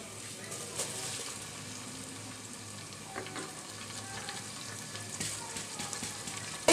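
Pulao rice fries with garlic paste in a hot pan, a steady close sizzle with light stirring scrapes throughout, no voices.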